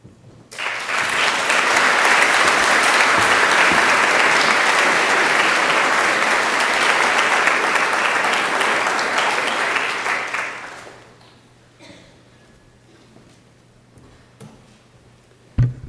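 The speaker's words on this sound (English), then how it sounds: "Can we do another round of applause for faculty and students?" Loud, sustained applause from a large crowd at a senior banquet for about ten seconds, then it fades out, leaving a quiet room with a few faint noises.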